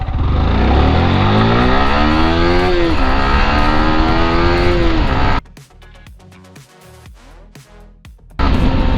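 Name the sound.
Yamaha R15M motorcycle accelerating from standstill, speed test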